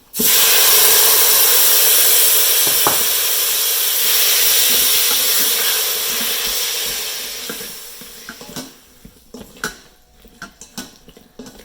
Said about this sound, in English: When I chopped them, it was approximately 2 cups of Roma tomatoes. So I'm gonna add them.